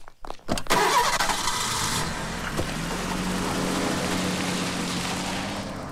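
A car engine cranks and catches, then settles into a steady idle, close by with no talk.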